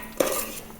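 Metal utensil clinking and scraping against a pan while stirring Tuni-style fish curry with Kanasalu fish, a brief close clatter with no talk.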